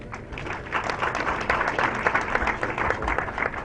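Audience applause at a Kenya Society for the Blind event, a dense burst of many hands clapping steadily and fairly loud for several seconds, with no talk over it.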